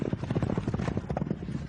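Horse hooves clip-clopping at a steady quick rhythm, mid-distance, with faint voices and crowd noise mixed in, at a 1998 horse race with a jockey.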